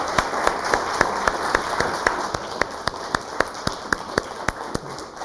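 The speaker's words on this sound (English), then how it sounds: "Can you just join me in a very warm round of applause for our three guests?" Steady applause from a symposium audience on educational attainment, with a dense wash of clapping broken by sharp, evenly spaced claps that stand out close by, continuing without talk.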